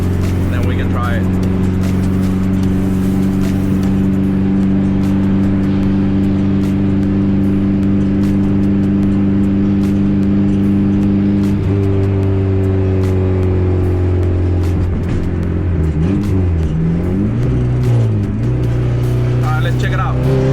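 A car fitted with an N2MB WOT Box shift light accelerates onto a highway. A loud, steady engine drone is heard from inside, with the pitch shifting and the revs climbing toward the end.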